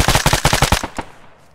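Rapid automatic gunfire in the video game Arma 3 on Stratis, a loud close burst of about ten shots in quick rhythm that breaks off and trails into a fading echo.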